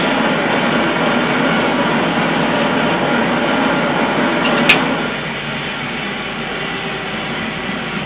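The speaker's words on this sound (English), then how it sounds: "Reverse thrust." Jet engine roar during a landing rollout with reverse thrust, a loud steady broadband rush that swells briefly near the middle and then eases to a lower steady level.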